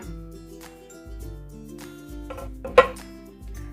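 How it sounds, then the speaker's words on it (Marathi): A lid lifts off a pan of veg pizza cooking on a tawa over a gas stove, making one sharp metallic clink midway through a faint background of steady music. "गॅस बंद करून घेतल्यानंतर झाकण काढून बघूया"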